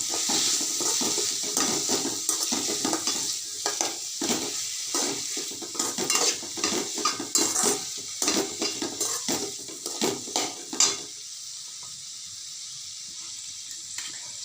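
Green chili and tomato sauté in a pan for a horse gram kuzhambu, a steady sizzle under repeated clinks and scrapes of a spoon stirring against the metal, the stirring fading out near the end.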